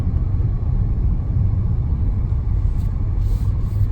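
A BMW E39 M5 on the move, giving a steady, loud low rumble of engine and road noise that holds evenly throughout with no talk over it.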